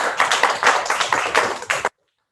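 A short round of audience applause at an internship program event, many hands clapping in a dense, lively patter at close range that stops abruptly after about two seconds into silence.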